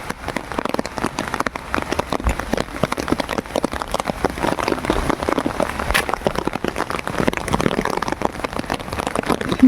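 Heavy rain pours down steadily and densely, a close, continuous patter with individual drops striking hard throughout, no voices over it.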